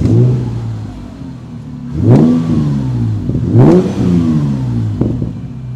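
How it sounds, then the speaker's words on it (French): A Morgan Roadster with the 3.0-litre V6 and a modified, sportier exhaust revs up sharply twice in succession, each blip rising to a throaty peak and falling back to a burbling idle, close and loud with no talk. "vous allez comparer avec le V6 3 litres, mais cette fois-ci avec une ligne d'échappement modifiée, plus sportive"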